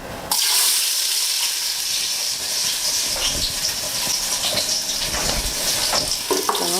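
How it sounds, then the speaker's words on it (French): Onions poured into a saucepan of hot oil, for fish-stuffed apples, start a sudden loud sizzle that keeps bubbling and crackling, with a few light stirring and scraping clicks and no speech. "Nous allons verser nos oignons dans notre casserole."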